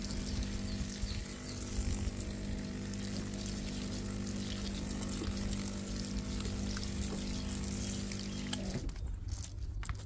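Water sprays steadily onto a car's multispoke alloy wheel during detailing, a continuous close hiss of rinsing and splashing that cuts off abruptly near the end.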